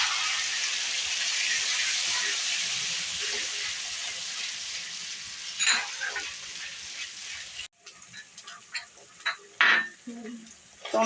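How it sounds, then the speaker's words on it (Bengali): Ground tomato paste frying with garlic paste in a pan for a Bengali fish curry, a steady loud sizzle that gradually softens, then scraping stirs and utensil knocks in the last few seconds. "টমেটোটা লাল লাল করে"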